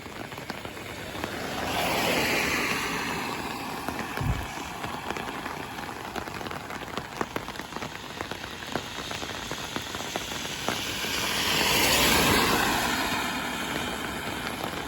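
Steady rain falls in Mirpur, Kashmir, a continuous soft hiss of drops on surfaces with gentle swells in intensity and a brief low thump, no voices over it.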